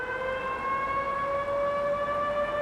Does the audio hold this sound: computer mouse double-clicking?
no